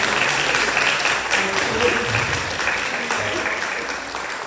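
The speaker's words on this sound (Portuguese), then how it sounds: "vamos dar uma salva de palmas?" A church congregation at an Adventist church inauguration service gives a sustained round of applause, dense and fairly loud, easing off slightly toward the end.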